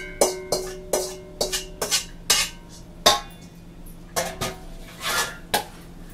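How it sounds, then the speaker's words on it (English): A utensil stirs beaten eggs into spinach spanakopita filling in a bowl, giving sharp, ringing clanks against the bowl at an uneven rhythm, close and loud with no talking. "And just mix that up thoroughly"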